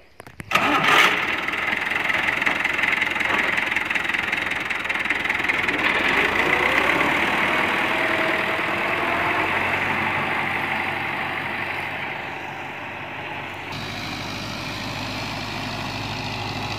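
Old Fiat 640 tractor engine starts with a brief cranking burst, then settles into a steady, loud mid-pitched diesel idle and run that holds close by throughout.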